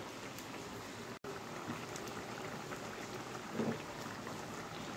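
Egg korma simmering in a pot gives a faint, steady bubbling hiss with soft pops, heard at low level throughout with no talking.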